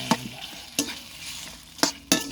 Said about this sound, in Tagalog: Gisa-gisa natin mga lodi.